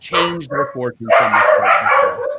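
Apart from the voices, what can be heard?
dogs barking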